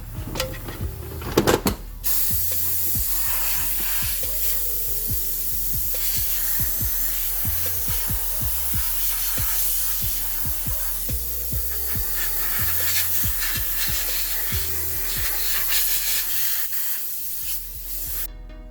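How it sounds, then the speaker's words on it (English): Compressed air blowing across car engine parts during an Acura TLX oil change, a loud close continuous hiss that persists for most of the clip after a brief bit of handling noise at the start. "I like to use compressed air, or you can use a rag"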